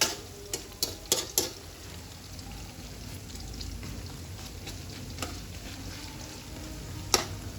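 A gram flour mixture sizzles steadily in a pan while a spoon stirs it, with several sharp scraping knocks at the start and another near the end over the continuous frying hiss.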